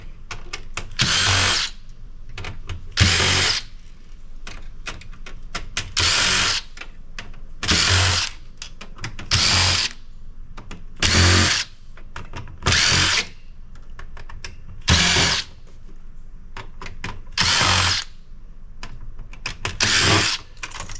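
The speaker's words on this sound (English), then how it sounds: "We got some unscrewing to do here." A power drill backs screws out of a Sun Microsystems server chassis in repeated loud bursts, roughly every two seconds, each whirring burst separated by short pauses with faint handling clatter.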